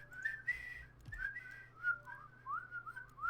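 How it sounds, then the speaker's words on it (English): A group whistles along to a familiar tune on a relaxed gaming chat show. The melody is soft and slightly distant, rising and falling in short phrases over a quiet background hum. "Let's whistle, everybody."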